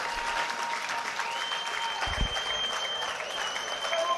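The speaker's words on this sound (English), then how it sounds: "Please make some noise for your runner-up, Karl Wareham. Huge cheer for Karl." A boxing crowd applauds and cheers the runner-up after a fight, a steady wash of distant applause with a faint tone running above it and a brief low thump near the middle.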